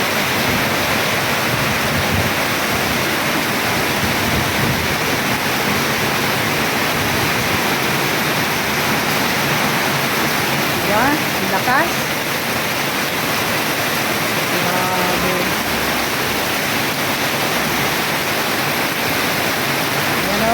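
Heavy rain pours at night, a steady, loud, unbroken roar of water with no pauses, in a flooding spot near a car park.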